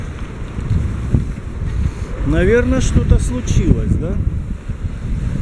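Strong east wind gusts along the Rostov-on-Don embankment, roaring steadily into the microphone as someone talks over it. Brief higher whistling sounds rise through the middle.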